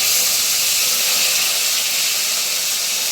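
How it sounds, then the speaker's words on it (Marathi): Tomatoes and potatoes sizzle as they are sautéed together in a pan for a guar-and-potato vegetable dish, a loud, steady hiss of frying filling the whole stretch with no pauses and no talking. "टॅमॅटो परत आणि बटाटा दोन्ही एकत्र परतून घेते"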